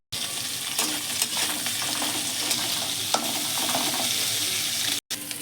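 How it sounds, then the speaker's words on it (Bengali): Carrot and capsicum frying in oil for chowmein, a steady close sizzle with occasional scrapes of stirring, continuous and fairly loud, no voices. "এবারে এই তেলে গাজর আর ক্যাপসিকামটা ভেজে নেব"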